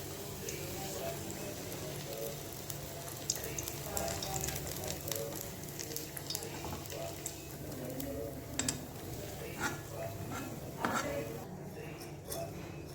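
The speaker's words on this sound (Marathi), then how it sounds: "आपला कांदा परतून रेडी आहे" Onion being sautéed in a pan for a village-style drumstick curry, a steady close sizzle with scattered clinks of a spoon and pan running under the whole stretch, punctuated by brief stirring scrapes.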